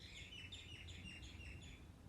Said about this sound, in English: I can hear a bird in a tree.